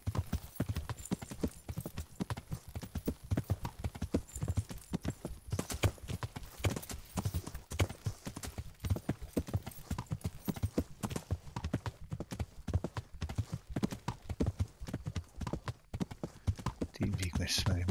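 Horse hooves clip-clop steadily at a riding pace in the medieval game Kingdom Come: Deliverance, a close, continuous rhythmic beat with a brief whinny and someone talking over it.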